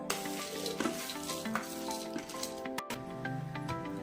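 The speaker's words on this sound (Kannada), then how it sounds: "ಮಂಡಕ್ಕಿ ಜೊತೆ ಮಸಾಲೆ ನೀಟಾಗಿ ಮಿಕ್ಸ್ ಆಗಬೇಕು ಅಲ್ಲಿವರೆಗೂ ಮಿಕ್ಸ್ ಮಾಡ್ಕೊಳ್ಳೋಣ" Puffed rice tossed with masala in a hot pan, with a steady sizzle and repeated light scraping and clinking of stirring, close and without talk.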